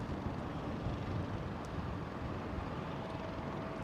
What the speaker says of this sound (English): Quite a low departure attitude for the A380 with BA.